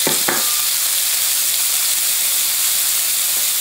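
Carrots tossed into a pan with a little oil, sizzling in a steady, even hiss of frying that carries on alone with no voices.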